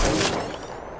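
Gunfire from a firefight in the Apex Legends battle royale game, a loud, dense burst of rapid shots at the start that thins into a rattling volley over about a second.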